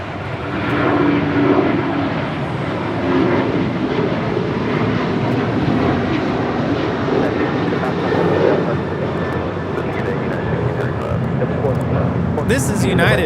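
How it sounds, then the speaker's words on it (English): United Boeing 737-900ER on flight 1635 departing Los Angeles International Airport for Washington Dulles, a loud sustained jet engine roar close by, holding steady, with a person talking over it. "This is United 1635 departing to Washington Dulles on a 737-900 ER."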